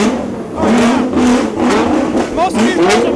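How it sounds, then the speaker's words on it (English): A modified Nissan GT-R R32 engine revs repeatedly at a car gathering, rising and falling in loud surges under talk and crowd chatter. "We're gonna rev up some engines"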